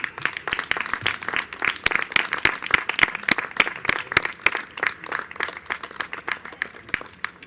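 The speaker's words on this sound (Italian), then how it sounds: "Un applauso per Benvenuto Fecchio." Audience at the Festival della quercia in the village of San Basilio, Ariano nel Polesine, applauding a guest, with steady, dense hand clapping from a modest outdoor crowd that continues throughout.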